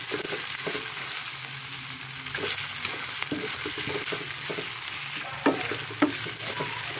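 Pork and garlic fry in a pan with a soft, steady sizzle. A utensil stirring the pan gives light scrapes and a couple of sharper knocks, with no voices.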